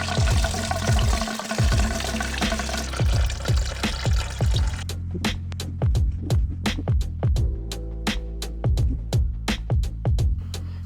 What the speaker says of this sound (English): I'm going to undo the screw and allow the coolant to pour out.